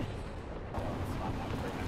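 Aircraft strafing gunfire in War Thunder lands near a Swedish anti-aircraft vehicle by a bridge, a dense, rumbling burst of cannon and machine-gun impacts that fills the whole two seconds, with a voice speaking over it.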